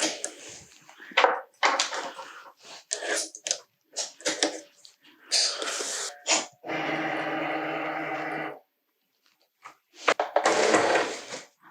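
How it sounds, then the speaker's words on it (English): Cricut machine cutting a Christmas card with a fine point blade: bursts of mechanical clicks and whirring movements, then a steady motorized hum for a couple of seconds, followed by more quick carriage rattles, close and moderately loud. "My Cricut is done cutting"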